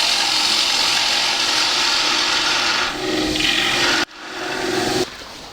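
A bowl gouge cuts into a wooden bowl spinning on a lathe, giving a loud, steady, rough shaving hiss. It breaks off abruptly near the end, then resumes briefly before stopping again.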